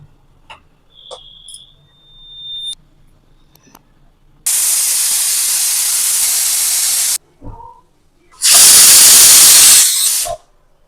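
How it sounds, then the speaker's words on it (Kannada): A pressure cooker vents two loud, sustained bursts of hissing steam, each lasting a few seconds, as its whistle blows while vegetable and sweet corn pulao cooks on a gas stove, with a faint tone and small clicks before the bursts. "ಲಿಡ್ ಮುಚ್ಚಿ ಒಂದೆರಡು ವಿಜಿಲ್ ತಗೊಳ್ಳೋಣ"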